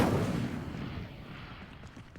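Incendio fire spell lighting pyres in Hogwarts Legacy, a muffled, low whooshing burst that fades over about two seconds, fairly quiet.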